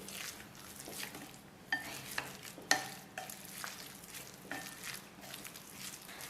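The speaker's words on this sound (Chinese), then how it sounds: "搅拌均匀，再倒入一些花椒水。" A spoon stirs a seasoned meat filling for stuffed pancakes, mixed with thirteen-spice, soy sauces and oyster sauce in a bowl, giving soft wet squelches and a few sharper clinks against the bowl, close and quiet with no voices.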